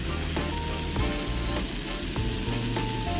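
A rib eye steak sizzles steadily in a heavy cast iron skillet indoors, a dense continuous frying hiss with faint intermittent clicks, loud and close throughout.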